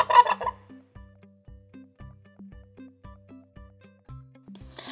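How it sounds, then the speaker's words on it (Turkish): One loud, harsh peacock call rings out at the start, then gives way to a soft, regular rhythmic pattern. "Şimdi sesini duyalım tavus kuşunun."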